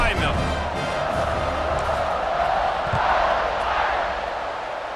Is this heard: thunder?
no